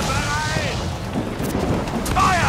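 Ship cannons fire in the pirate video game Assassin's Creed IV Black Flag, a dense, continuous low rumble of booms lasting throughout, with a voice speaking over it near the start and end.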